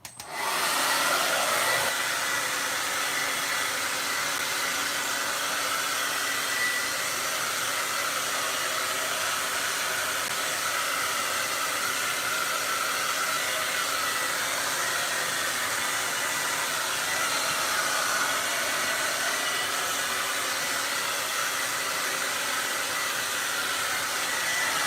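A hair dryer on high heat blows steadily for a long stretch, a loud, constant rushing whoosh with no talking over it, while hair is stretched taut in sections during blow-drying.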